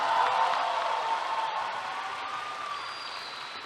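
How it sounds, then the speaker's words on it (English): A graduation ceremony audience applauds in a soft, diffuse wash that sounds distant and slowly fades, with no voices. "Let's give these guys another round of applause."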